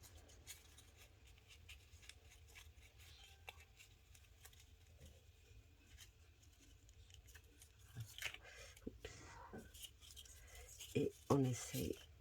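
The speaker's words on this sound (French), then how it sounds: "Là, on coupe les surplus." Scissors snipping off surplus paper around a die-cut rosette border, faint quiet cuts that grow into a few sharper, closer snips near the end, with soft speech nearby.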